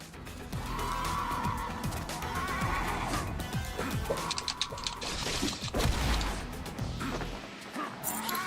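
Horse enemies in a video game give repeated whinnies and neighs over a busy, loud mix of game effects and thuds, with short voice fragments in between.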